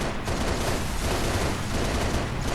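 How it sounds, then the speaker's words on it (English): Rapid gunfire in Halo Reach during a Legendary run on New Alexandria, aimed at anti-air turrets, a dense continuous barrage of shots and blasts filling the whole stretch, loud and close with no talk. "Now we're gonna take out these anti-air turrets"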